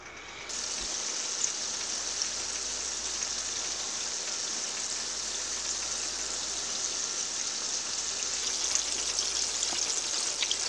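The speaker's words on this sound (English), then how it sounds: "definitely want to get the grease hot enough before you start frying" Chicken wings frying in hot grease in a pan give a steady, dense sizzle and crackle that runs unbroken for about ten seconds, close and loud with no talking.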